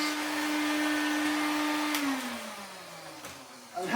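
A Hoover Hooverette corded vacuum cleaner runs with a steady whine nearby, then winds down as its pitch falls, ending in a few knocks and clicks.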